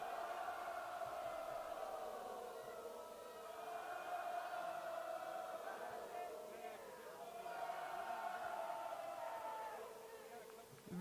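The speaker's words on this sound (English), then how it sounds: "Crowd singing. Let the crowd sing." A large arena crowd at WrestleMania singing together in a sustained, swelling chorus, heard at a distance as a dense droning blend of voices rising and falling.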